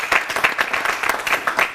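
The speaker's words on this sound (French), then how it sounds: "Applaudissements, s'il vous plaît." A small group claps briefly, the uneven rhythmic claps fairly close and moderately loud, with no voices.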